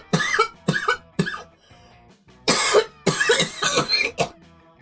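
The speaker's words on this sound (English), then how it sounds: "I made it to the end before I coughed so hard" Hard, wet coughing in a run of harsh bursts, loud and close, with a short pause partway and a final cough at the end.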